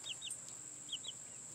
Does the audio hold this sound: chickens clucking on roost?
yes